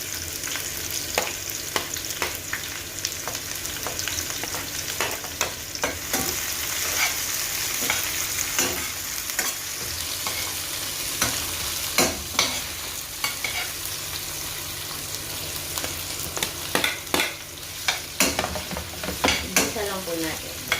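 Onions being sautéed in a pan for sherry fish with sauce give off a continuous close sizzle, broken by repeated scraping and clattering stirs of a utensil, with no one speaking.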